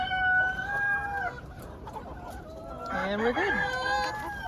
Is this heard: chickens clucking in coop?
yes